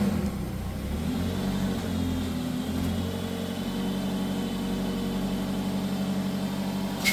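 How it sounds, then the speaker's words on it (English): The engine of a 1993 Subaru Sambar kei van, a small engine that has been stalling, runs close by with a steady, buzzy drone. It swells slightly midway with little clear revving. "See if you just kind of blip the throttle, if it'll actually go or if it'll kill itself again."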